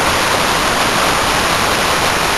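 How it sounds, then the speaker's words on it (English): A small waterfall rushes outdoors in a canyon, a steady, dense, broadband splash that stays loud and close without break for the whole stretch. "That's a little waterfall."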